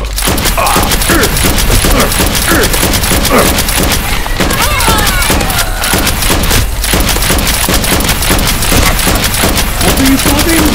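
Loud, chaotic Nerf war with toy blasters firing rapidly amid constant shouting and excited voices, the foam-dart shots buried in the dense noise.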